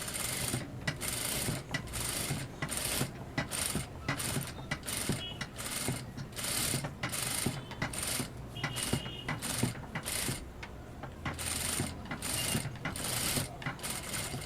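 A tailoring sewing machine stitches the edge of a boat-neck blouse, giving a steady, rapid mechanical clatter with rhythmic pulses that run unbroken and up close, with no voices.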